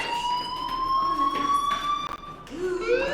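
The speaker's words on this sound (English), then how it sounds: "do you hear that fire alarm? That means you should be outside." A fire alarm sounds in the Life Is Strange video game with a steady, piercing electronic tone that briefly cuts out and then returns. It rings loud and continuous over faint background noise.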